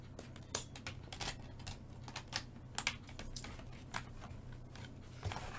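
Faint, scattered crisp snips and clicks of paper being cut out with scissors to make a card, irregular and close, in a quiet room with no talking.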